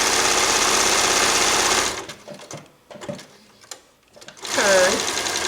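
Domestic sewing machine stitching dense embroidery around a small circle at near-zero stitch length, a loud steady whirring run for about two seconds, then brief pauses and taps while the fabric is turned, before stitching resumes.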